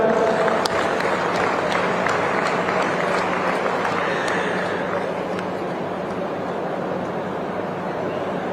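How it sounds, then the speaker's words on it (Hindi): Audience applause for schoolgirl students who completed a long trek, at a youth dialogue event in Pinjore attended by the chief minister; steady, dense clapping from a large crowd continuing throughout without break. "छात्राओं के लिए जोरदार तालियां।"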